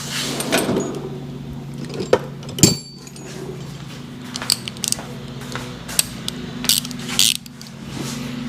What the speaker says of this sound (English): How about I get a ratchet?